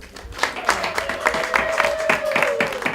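A live audience applauds steadily at a blues and mbira music symposium, dense claps filling the space at moderate loudness while a sustained tone hums underneath.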